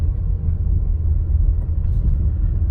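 A 2004 Toyota Sienna minivan with a failed transmission cooler driving in second gear, a loud steady low engine and road rumble from inside the cabin, no talk.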